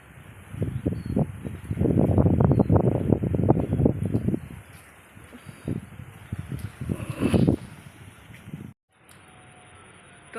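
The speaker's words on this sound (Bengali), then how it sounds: "খুব জোরে জোরে হাওয়া দিচ্ছে।" Strong wind gusts outdoors under a dark, clouded sky just before rain, buffeting the microphone with loud rumbling bursts that ease off in the second half, then drop away briefly near the end.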